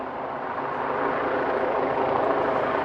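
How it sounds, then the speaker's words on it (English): Police helicopter hovering overhead at a protest outside a government building, a steady broadband rotor and engine roar that stays loud and constant throughout, with no clear speech. "We have a police helicopter above."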